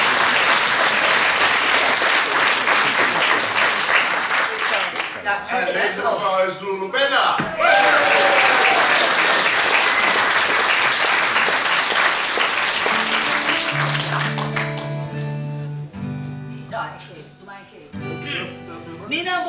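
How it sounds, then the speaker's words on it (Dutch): Long, loud applause from an audience in a library fills the first half, fading out, after which a voice speaks over a tonal sound with a few chuckles. "dat is echt een lang applaus"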